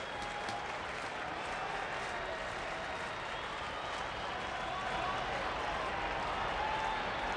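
A sellout baseball stadium crowd applauds Tony Gwynn's farewell with steady, sustained clapping and cheering that holds at an even level throughout without a break.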